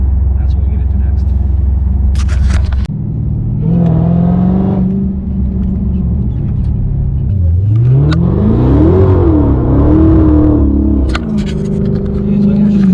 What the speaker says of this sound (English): I do a couple of flybys and stuff like that, so you guys can hear and see the car